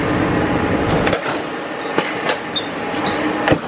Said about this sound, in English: hopefully the monorail's coming any minute now